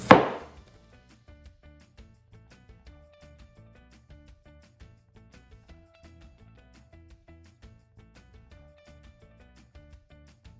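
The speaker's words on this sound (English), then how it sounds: "and now I'm going to chop them as well" A knife chops Chinese cabbage on a board in steady, light, evenly spaced taps that continue throughout, following one sharp loud knock at the start.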